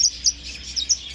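Red-rumped parrots at an agricultural bird exhibition give a few short, high chirps in quick succession, faint and close over a quiet background.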